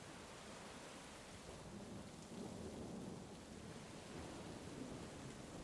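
A thunderstorm pours steady, dense rain while low thunder rolls and swells through the middle, a continuous full roar with no voices.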